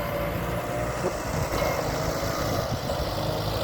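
Kubota M5702 farm tractor working after pulling free of a mud hole, its diesel engine running with a steady, fairly loud mid-pitched drone and no talk over it.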